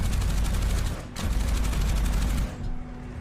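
Rapid machine-gun fire from a fighter plane attacking an Egyptian Macchi C.20V fighter, loud sustained bursts of rattling shots that break briefly and then resume before falling away.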